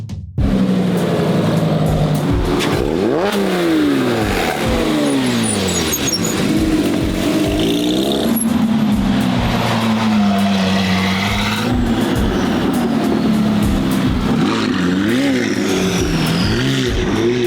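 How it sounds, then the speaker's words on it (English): A supercar with a newly fitted exhaust revs hard and drives on a Southern California road, its loud engine note climbing and falling through repeated sweeps, continuous and up close with no talking. "I'll show you guys right now that new exhaust I talked about this entire video."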